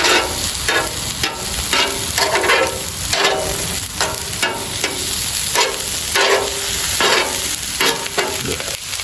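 Burgers and brats sizzle steadily on an Aldi griddle, with repeated scraping and stirring strokes cutting through the loud, continuous frying hiss.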